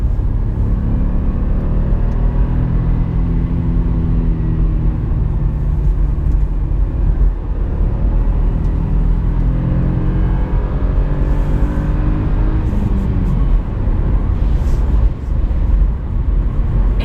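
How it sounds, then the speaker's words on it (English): The engine of a 2017 BMW 218i Active Tourer idles and hums steadily with a low rumbling throb, close and constant, with no voices. "let's listen to this engine, see if you can pick this up."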